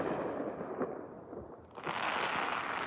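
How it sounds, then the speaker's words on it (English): Fireworks going off outside on New Year's Eve, heard from a balcony as a dense, continuous rumble of crackling bursts and booms that swells louder near the end. "we do have some fireworks going off already"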